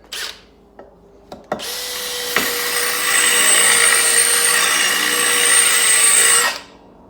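A power drill bores through porcelain tiles with water: a few short taps and a brief start, then a loud, steady whining grind held for about five seconds before it stops abruptly, with no speech.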